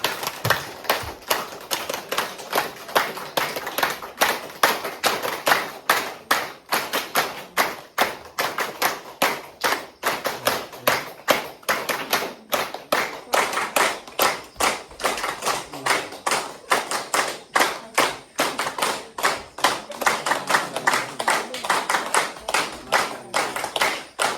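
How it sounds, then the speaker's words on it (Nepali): At a ceremony for a yoga and meditation centre, an audience claps in a long, steady, rhythmic run of distinct, crisp hand claps that continues evenly throughout, with no talking over it. "ताली बजाइदिनु हुन म हार्दिक अनुरोध गर्दछु।"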